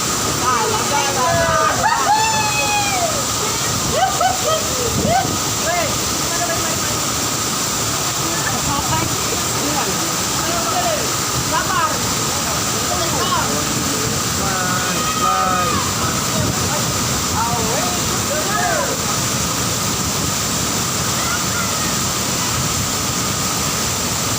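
A waterfall in Ambon roars as a constant, loud rush of water, with voices and birdlike chirps faintly audible over the steady wash.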